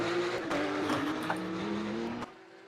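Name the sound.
NSX race car engine in a Porsche Cup racing video game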